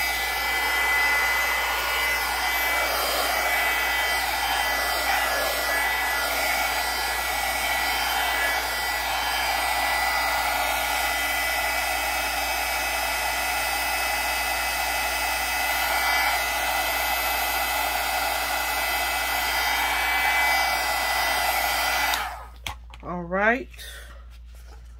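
A handheld hair dryer blows on a mixed media junk journal page with a lemon theme, a steady, loud whooshing whir that runs unbroken for over twenty seconds before cutting off, with a person speaking briefly at the end.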